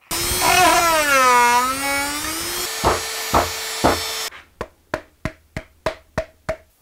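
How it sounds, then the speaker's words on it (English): A hole in wood is reamed out for a bioluminescent fungus lamp. It opens with a squealing whine that rises and falls, then turns into a run of sharp, evenly spaced scraping clicks, close and clear. "ream this out like crazy to get this thing in there further"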